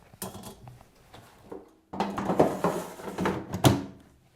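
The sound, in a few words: baking dish placed on the air fryer roasting plate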